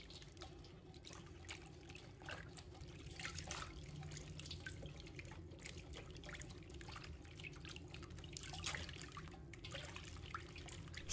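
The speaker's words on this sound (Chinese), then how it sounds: "像我这样一根一根的清洗，把芹菜的杂物和泥土给它完全清洗干净" Celery stalks are washed one at a time under a running kitchen tap, giving a soft, continuous trickle and splash of water with faint dripping, heard alone and fairly quiet.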